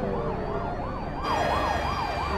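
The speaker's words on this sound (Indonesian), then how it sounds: "mobil Sukwo hampir menabrak damkar yang melaju dengan cepat" A speeding fire truck siren wails loudly in a steady rising and falling pattern over rumbling road traffic, from the film Train to Busan.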